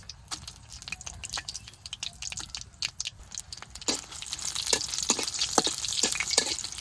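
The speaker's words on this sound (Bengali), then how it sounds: "তেলের উপরে দিয়ে দিলাম শুকনো মরিচ" Dried red chilies frying in mustard oil in a wok: crackling pops and spitting droplets close by, growing louder and denser toward the end.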